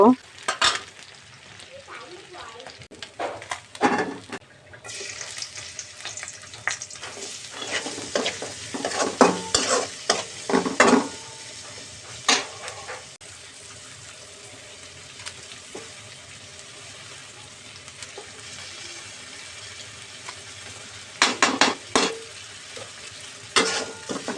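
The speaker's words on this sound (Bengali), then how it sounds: "এখন হচ্ছে আমি শিং মাছ ভেজে নিচ্ছি" Shing (stinging catfish) fry in a pan with a continuous sizzle, broken by bursts of scraping and stirring that come and go, no voices.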